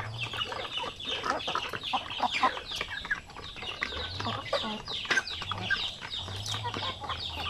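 Free-range chickens of the Basilan native breed on a backyard farm cluck continuously across the whole stretch, with scattered short calls overlapping one another at moderate distance and steady low background noise.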